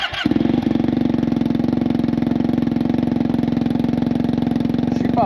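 A 2021 Yamaha TMax 560 scooter idles close by, its exhaust giving a steady, even, low rumbling pulse after a brief clatter at the start, with no talking over it.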